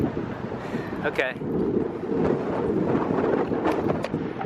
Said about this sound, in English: Whoa, so windy.